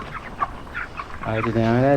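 Forty-five-day-old broiler chickens on a farm, a few soft clucks followed by a louder drawn-out call with a wavering tone, close by.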